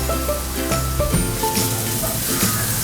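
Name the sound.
chopped vegetables added to a hot pan, sizzling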